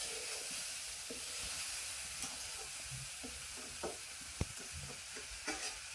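Food frying in oil in a pan, stirred with a utensil: continuous soft sizzle and hiss with a few light scraping knocks, fairly quiet and without talk.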